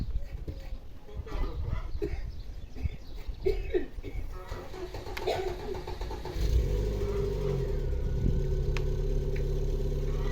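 A car engine starts and settles into a steady, loud idle rumble, then builds as it pulls away, after a stretch of scattered rustling and movement with people talking nearby.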